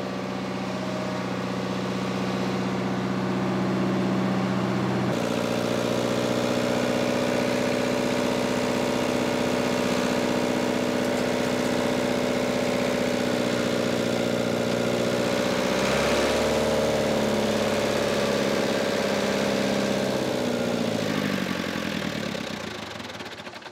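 A skid steer engine idles steadily and close by for over twenty seconds, with a droning mechanical hum that shifts pitch partway through and dips slightly near the end.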